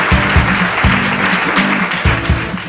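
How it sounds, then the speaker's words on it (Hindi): Loud applause from a studio audience greets a quiz show contestant, a dense rhythmic clapping that swells in several bursts over the whole span, with no talking. "जोरदार तालियां हो जाए प्रांजल के लिए।"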